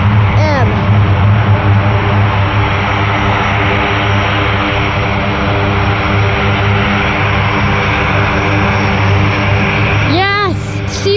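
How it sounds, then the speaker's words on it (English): A C-130 military transport aircraft at Fort Bragg drones with a loud, steady propeller roar that stays close and constant throughout, with faint talk beneath it. "That is America's version of the Airbus 400M."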